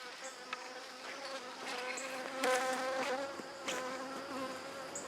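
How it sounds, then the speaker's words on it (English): Bees buzzing around a camera beside backyard beehives, a steady close insect drone with individual wingbeats swelling louder as bees pass near, no talking. "You guys will notice that there were some bees probably around the camera"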